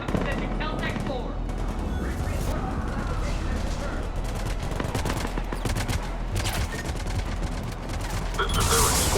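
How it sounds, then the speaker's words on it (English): Rapid bursts of automatic gunfire in a fan-made Mass Effect web series, loud and dense throughout, with voices talking over the shooting. "Taking enemy fire."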